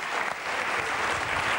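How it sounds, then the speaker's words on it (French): A French television studio audience applauds a contestant named Emmanuel on a variety show, steady dense clapping filling the whole moment at moderate level with no talk over it. "On applaudit Emmanuel"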